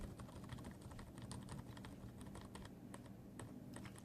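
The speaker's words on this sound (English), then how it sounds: "They have a nice sound to them, and they feel quite solid." Rapid, steady typing on a Cooler Master Storm Devastator membrane keyboard, soft clustered key clicks tapping continuously at a quiet, close level with no voices.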